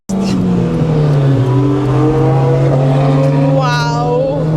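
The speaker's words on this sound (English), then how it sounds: "Here come the Porsches." Porsche GT3 sports cars passing on the Nürburgring track, heard from inside a VTEC-swapped Civic whose loud, steady engine drone dominates, with rising and falling engine tones from the passing cars near the end.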